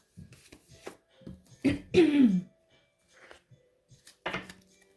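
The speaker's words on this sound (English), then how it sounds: "Let me clear my throat" A single close throat clearing and rough cough in a quiet room, surrounded by small clicks and handling noises.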